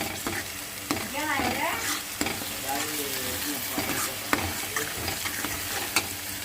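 Chili powder and tomato paste are stirred in a sizzling frying pan, with repeated spatula scrapes and taps over the frying and a few brief squeaky tones.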